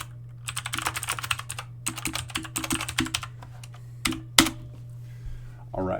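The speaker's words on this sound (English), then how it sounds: "typed in my question" Fast typing on a computer keyboard, entering a question into an AI search engine, with quick bursts of close key clicks, a short pause, then a few final louder keystrokes over a steady low hum.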